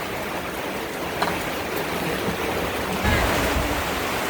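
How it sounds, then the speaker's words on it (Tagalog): Heavy rain pours down steadily, a dense continuous wash of noise with no talking. "Ang lakas ng ulan."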